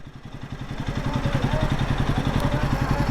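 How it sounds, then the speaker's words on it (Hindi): A vehicle engine idles nearby at a roadside dhaba, a steady, loud, rhythmic low chugging that builds slightly at the start and then holds constant. "वो इंजन बंद करो, सुना ही नहीं दे रहा था।"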